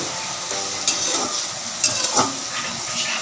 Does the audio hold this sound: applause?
no